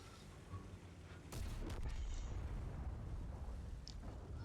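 Artillery shells burst in a tank battle game, a heavy rumbling roar of explosions that swells after a quieter start and stays loud and sustained, with a faint whistle near the end.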